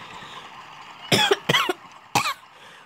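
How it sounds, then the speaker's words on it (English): Three short, harsh coughs close to the mic, two in quick succession and then one more after a brief pause, over faint background hiss. "Why am I coughing again?"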